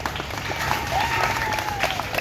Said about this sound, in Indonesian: Tepuk tangan dulu nak buat mereka